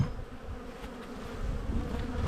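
Honey bees swarm around an open hive during a brood inspection, a dense close buzzing hum that holds steady for a couple of seconds with no speech.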